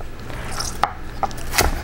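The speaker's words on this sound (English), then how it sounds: "just come in and chop up our celery" Celery being chopped with a French chef's knife on a cutting board, giving a few sharp, separate knife strikes at an uneven pace, close and fairly loud with no talk.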